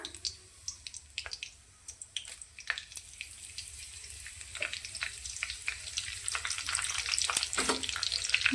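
Cumin, mustard seeds and curry leaves fry in hot oil, starting with sparse pops and crackles that grow into a busier, louder sizzle with sharp spattering bursts, heard close with no talk.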